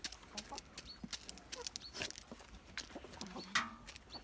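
Quiet clucking and scratching of village farm chickens close by at feeding time, a scattering of soft calls with one sharper squawk near the end.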